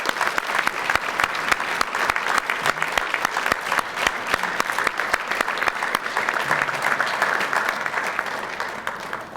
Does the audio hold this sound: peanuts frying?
no